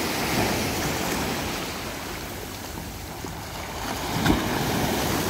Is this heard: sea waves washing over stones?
yes